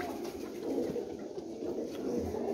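A flock of pigeons of a prized, high-class breed at a pigeon gathering in Jhelum, cooing in a low, steady, murmuring drone that runs close and continuous throughout.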